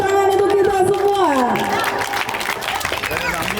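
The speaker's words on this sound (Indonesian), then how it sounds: "Tepuk tangan untuk kita semua." An audience at a traditional Minangkabau silek martial arts performance claps and cheers, a dense continuous applause under a loud voice calling out over it.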